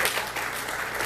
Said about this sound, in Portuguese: Não era para aplaudir